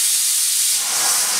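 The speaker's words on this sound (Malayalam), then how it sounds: "8 വിസിലിന് ശേഷം കുക്കർ ഓഫ് ചെയ്തു" Steam hissing from a pressure cooker of chickpeas on a stove, a loud, continuous, airy whistle held steadily throughout, alone without voices.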